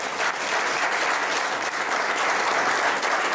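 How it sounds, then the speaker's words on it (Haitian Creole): Steady applause from a church congregation, dense and continuous clapping throughout, fairly close and loud with no speech on top. "Est-ce que vous applaudissez mon Dieu pour ça?"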